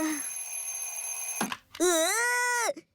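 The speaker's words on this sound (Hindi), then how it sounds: "इतना अच्छा सपना था और उसके बीच में से अलार्म बज गया।" A cartoon alarm clock rings loudly in a bright, bell-like burst after an earlier stretch of sustained tones, cutting off abruptly near the end.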